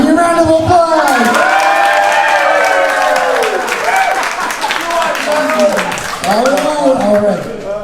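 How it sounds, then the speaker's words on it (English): Crowd at a summer barbecue event claps and cheers loudly and steadily, with shouts and a voice talking over the noise throughout. "give me a round of applause"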